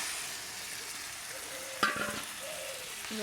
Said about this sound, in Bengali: মাংসগুলি ভালো করে কষাবো